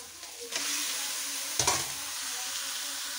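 Meat with ginger and garlic paste sizzles in a pan as it is stirred, a steady close frying hiss with a couple of distinct scraping knocks from the utensil, no talking.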